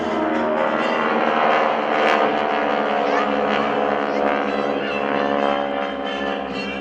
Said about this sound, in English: the diamond formation, transformed into a challenging vertical diamond, attempts to fly right through the center